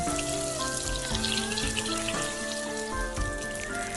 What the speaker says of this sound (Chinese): 油热之后放入豆腐，开中火慢慢煎。